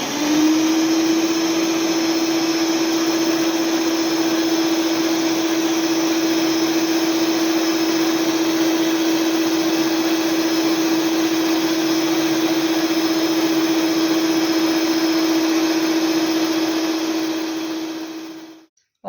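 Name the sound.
electric mixer beating sponge cake batter while adding flour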